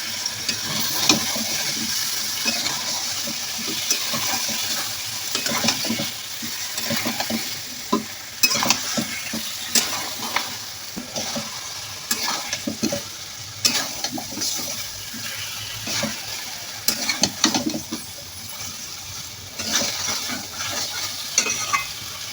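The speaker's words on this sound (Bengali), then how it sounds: "এখন মাছগুলো দিয়ে তরকারির উপরে মাছগুলো কষিয়ে নেব" Fish being sautéed in a vegetable curry, with sizzling frying and repeated scraping, stirring clatter from a spatula in the pan, moderately close and continuous, and no talking.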